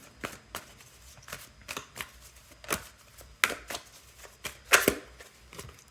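A tarot deck is shuffled by hand in a series of quick, close riffles and snaps, the card flutters coming in uneven bursts with brief pauses between them.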